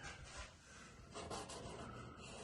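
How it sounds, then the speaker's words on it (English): Hand sanding of body filler on a 1973 Dodge Charger: quiet, close rasping strokes rubbing back and forth in an uneven rhythm, with no talking. "So I'm gonna have to do a little more sanding"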